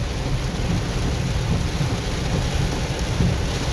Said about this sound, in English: Damn, another good lightning strike.